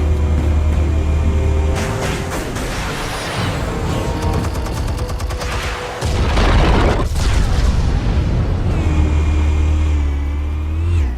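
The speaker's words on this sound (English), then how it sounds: "Explosives armed. Fire when ready." Explosives go off in Batman: The Telltale Series, a loud, dense stretch of booming blasts and crackling debris with two sharper bursts, riding over a constant low rumble.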